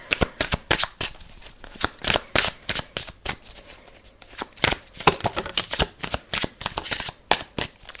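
Tarot cards riffled and shuffled by hand in quick, uneven bursts of crisp slapping flutters, close and loud with no talking.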